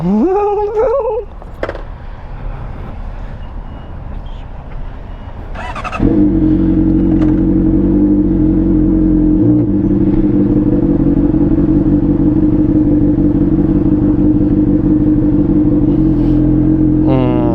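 A loud Honda CBR motorcycle engine idles and then starts up while riding, settling into a steady throbbing drone with a constant low hum close by.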